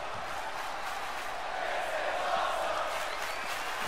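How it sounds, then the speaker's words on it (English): Wrestling crowd noise fills the arena, a steady roar of fans cheering and shouting that swells slightly midway, loud and continuous throughout with no clear speech on top. "Listen to the fans."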